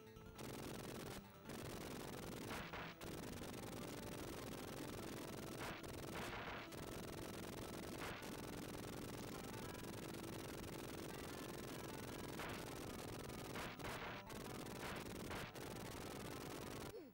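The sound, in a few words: tank gunfire in Rambo III Sega Genesis video game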